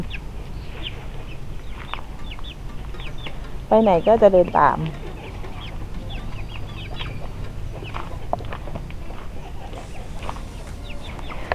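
A few laying hens cluck briefly in the middle while a person keeps talking over a low background hum.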